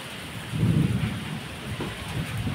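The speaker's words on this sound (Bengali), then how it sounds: "বৃষ্টি পড়তে শুরু করে দিয়েছে, আর যে গাছে এতটা দুলছে।" Rain falls steadily with a rumble of thunder during an evening storm, trees swaying in the wind outdoors; a continuous close wash of rain swells briefly, with no talking.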